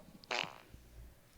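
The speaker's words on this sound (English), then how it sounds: "Did you record yourself farting?" A single short fart, a brief buzzy blurt close to the microphone, followed by faint low background noise.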